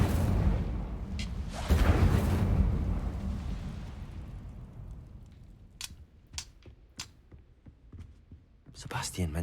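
A fire spell goes off in the Hogwarts Legacy video game. A loud whooshing, roaring burst of flame swells and slowly dies away, followed by scattered sharp crackles and clicks.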